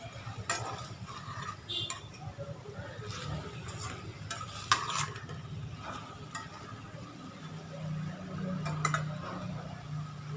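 Mixed vegetables for avial stirred in olive oil in a pan over a low flame, with steady scraping and clinking of a spoon against the pan and a soft sizzle underneath.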